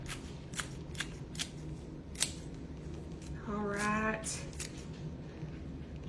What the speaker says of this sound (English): So we're gonna be adding just 1 green onion. Take some scissors and I'm just gonna chop it.